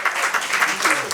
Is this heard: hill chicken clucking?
no